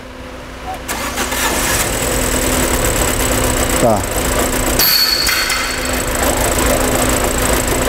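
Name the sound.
misfiring car engine running on a jack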